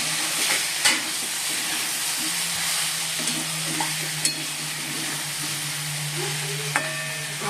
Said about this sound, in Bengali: সয়াবিন আলু তরকারি কষাচ্ছি এখন